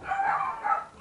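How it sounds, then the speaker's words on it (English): A dog gives two short barks, close and fairly faint, with no other sound around them. "And that's a dog."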